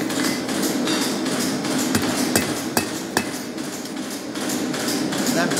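A hammer knocks over the ends of forged metal collars, giving a series of sharp, irregular metallic strikes over a steady background roar of a forge.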